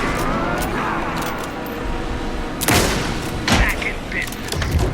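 Bursts of gunfire in the video game Alan Wake II, loud cracks and booms cutting through a dense, noisy game soundscape, with sharp volleys around the middle and end of the stretch.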